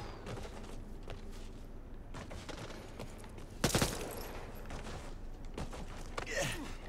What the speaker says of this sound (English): Throw a firecracker, they're all on there.